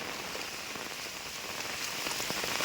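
Steady rain pattering on a hard surface, a dense continuous hiss of drops with no voices, moderately close.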